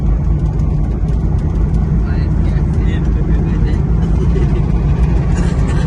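A car rolls along during a driving lesson near a bypass junction in Nalitabari, with a steady, loud, low engine and road rumble throughout as people talk over it.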